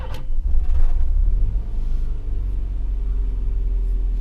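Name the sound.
boosted Nissan Micra K11 engine revving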